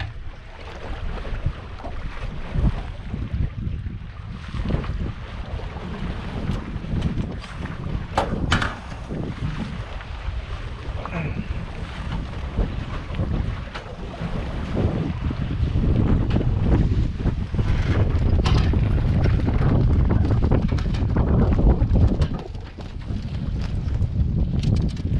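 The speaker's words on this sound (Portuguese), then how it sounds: "Só curtir o vento agora." Strong wind roars steadily across the microphone while a Flash 170 dinghy sails toward a marina, with water rushing beneath the hull; the gusts build and grow louder in the second half before easing near the end, with no talking.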